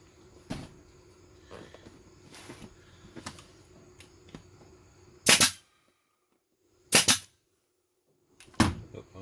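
A staple gun fires staples into a vinyl seat cover for an ATV, UTV or motorcycle seat, three loud sharp snaps spaced about a second apart, preceded by quieter handling and rustling up close, with no speech.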